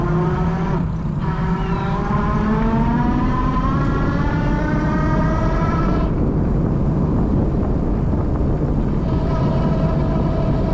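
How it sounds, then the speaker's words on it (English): A Mokwheel Obsidian e-bike with big tires runs on throttle only, its electric motor giving a loud steady whine that rises in pitch as it accelerates, over constant rolling and wind noise. "first we're gonna do just the throttle only with the electric motor"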